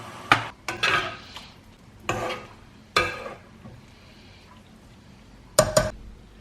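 A utensil scrapes and clinks around a pan while mixing boiling water into a stock cube, in several separate bursts, close and moderately loud, with quiet gaps between strokes and no talking.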